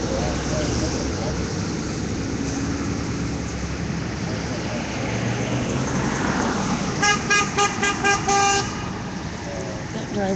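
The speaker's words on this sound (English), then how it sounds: "That driver honked at us" A car horn honks in a quick burst of repeated toots at a street intersection, loud over steady traffic noise and a busy roadway wash.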